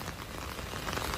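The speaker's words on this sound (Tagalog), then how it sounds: "ito kita nyo naman napakalakas ng ulan" Heavy rain pours during an outdoor riverside esplanade inauguration in Pasig, a dense, steady hiss of water on surfaces filling the short moment.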